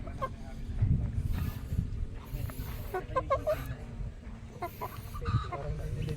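Chickens cluck softly and repeatedly nearby amid faint outdoor background noise, with people talking quietly at times.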